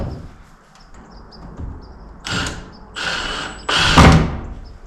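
Temporary screws being driven to hold a panel in place in a garage: three short bursts of a power driver whirring, each louder than the last, close and with no talking.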